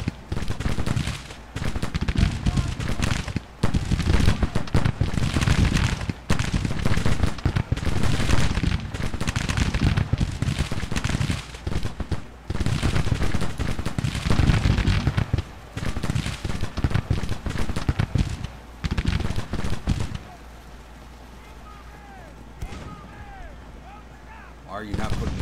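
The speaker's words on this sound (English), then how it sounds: "The gun's in action." Cannon and gunfire from Civil War artillery batteries in the strategy game Grand Tactician, a dense, loud barrage of overlapping booms and crackling shots that runs continuously, then cuts to quieter ambience near the end.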